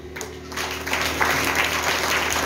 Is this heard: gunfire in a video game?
no